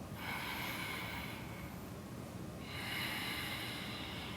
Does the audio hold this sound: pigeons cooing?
no